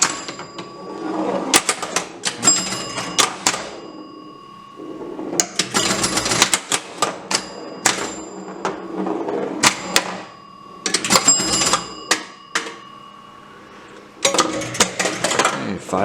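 Pop bumper on a 1965 Bally Bullfight pinball machine firing in repeated bursts of sharp mechanical clacks and rattles, with short pauses between volleys and a steady electrical hum underneath.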